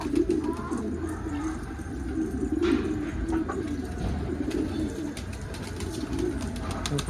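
Doves in a coop coo repeatedly in low, soft hooting phrases, fairly close, with faint chirps and a steady background murmur.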